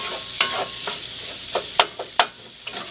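Food sizzles steadily in a hot pan while a utensil stirs and scrapes it, with several sharp clinks and scrapes standing out close up over the constant frying hiss.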